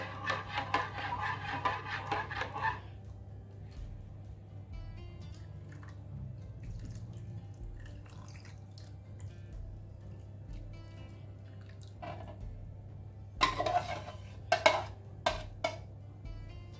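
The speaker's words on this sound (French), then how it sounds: "Je mélange tout ça et je vais vider ça dans ma cocotte." Mixed cassoulet ingredients are scraped and tipped into a cooking pot (cocotte) in a quiet home kitchen, with soft utensil clatter at the start and a burst of clinking and dripping near the end.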